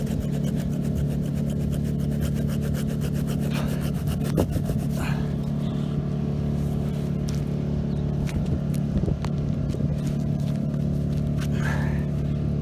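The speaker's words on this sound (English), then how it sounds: "And I think now we can might be able to use our handsaw." A sharp handsaw rasps back and forth through a girdling tree root, the quick strokes clearest early on and steadier later, all under a constant low engine-like hum with no talking.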